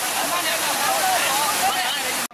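Floodwater from rivers overflowing after days of heavy rain in Guangdong, China: a loud, steady rushing roar of churning water that fills the whole clip and cuts off abruptly at the end.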